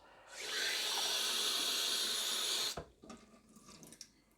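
Cold water runs from a tap into an ordinary mug in a steady rush for a couple of seconds, then stops, followed by a few light clinks and knocks.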